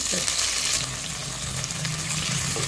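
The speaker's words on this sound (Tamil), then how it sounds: "இப்போ நல்லா இது ஃப்ரை ஆகும்போது நம்ம வெங்காயம் நறுக்கி வச்ச வெங்காயத்தை போட்டோம்" Chopped onions with rock salt sizzle and crackle in a hot pan, a steady frying hiss with occasional stirring.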